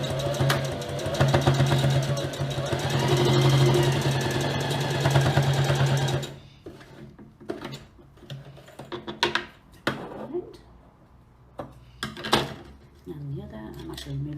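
A domestic sewing machine runs in a fast steady whir while stitching along the edge of a fabric face mask, then stops abruptly, followed by clicks, handling noises and rustling.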